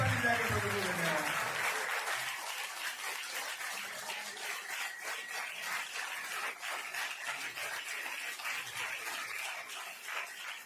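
A Pentecostal church congregation claps loudly and steadily, a dense wash of hands that keeps going for the whole stretch, with a voice speaking over it at the very start.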